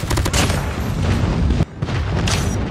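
Airstrike explosions in Call of Duty Mobile, dense booming blasts rolling one into another with a short break before more detonations.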